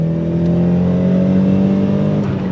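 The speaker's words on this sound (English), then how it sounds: "That is a fantastic sounding engine" Nissan 200SX engine revving loud and close, a strong steady growl with clear rising harmonics held evenly, easing slightly at the end.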